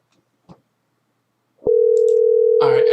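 A telephone ringback tone sounds on an outgoing call to a scammer, a single loud steady tone starting after a click and a moment of near silence.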